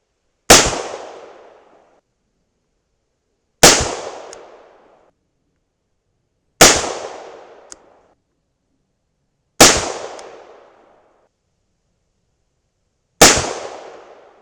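Five .38 Special +P pistol shots with 125-grain Hornady XTP loads over 6.6 grains of powder, loud sharp cracks spaced about three seconds apart, each trailing a brief outdoor echo, with no talk between them.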